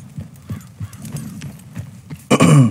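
A white horse walking in Red Dead Redemption 2, steady clip-clop hoofbeats at an even pace, ending in a loud snorting whinny near the end.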